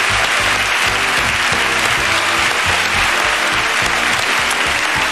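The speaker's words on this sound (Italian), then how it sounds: "chiedo di fare un fortissimo applauso alla giuria" Studio audience applauding the jury at a semifinal of an Italian talent show, steady loud clapping filling the whole stretch with a low musical bed underneath.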